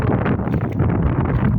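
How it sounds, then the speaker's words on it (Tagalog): Cold wind buffets the microphone on a sea shore in the morning, a loud and constant rumbling roar with no talk over it. "Napakalamig ng hangin."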